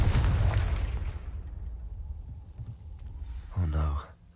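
A Confringo fire spell bursts in Hogwarts Legacy with a loud booming blast up front that rumbles and fades, and a second sharp burst follows near the end. A voice speaks faintly underneath.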